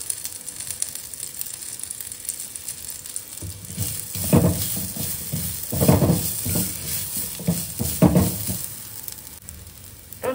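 Chickpea kurma masala sizzling and frying in a pan, with several bursts of stirring scrapes against the pan over a steady sizzle.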